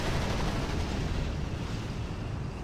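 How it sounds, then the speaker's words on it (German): A supply convoy being destroyed in the strategy game R.U.S.E., heard as a dense, continuous roar of explosions and gunfire that stays loud throughout and eases only slightly toward the end. "Sieht aus wie ein Nachschubkonvoi, der zerstört wird."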